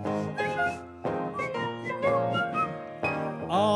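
Someone whistling a cheerful tune in clear, close melodic phrases with short breaks between them.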